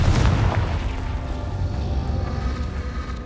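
Confringo spell blast in the video game Hogwarts Legacy, a booming explosive burst at the start that rolls into a long, broad rumbling decay filling the rest of the moment.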